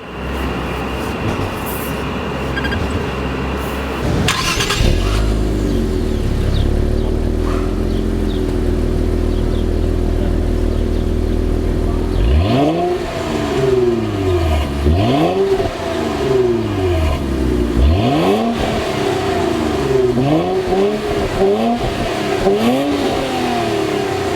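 A 2018 Infiniti Q50 Red Sport 400 with a twin-turbo V6 pulls away. A short, sharp blip and a steady drone give way to a series of rising revs through the gears, loud and close, with no talk.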